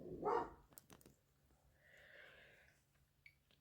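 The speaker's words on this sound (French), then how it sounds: "toutes mes excuses pour les bruits de chiens" Dogs barking in a home while someone speaks in French; a loud bark or two opens close by, followed by brief quieter yips and a faint breathy hiss.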